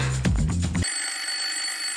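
A telephone bell rings in a home, a sustained bright electronic trill that starts abruptly and holds steady, clear and fairly close, with no talk over it.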